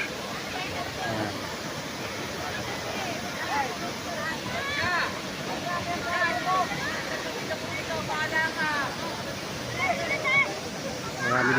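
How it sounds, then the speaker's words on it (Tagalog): Bunga Falls waterfall in Nagcarlan, Laguna, a steady broadband rush of falling water with wind buffeting the microphone, while people talk nearby throughout. "Ito mga kapraps ang sikat na Bunga Falls."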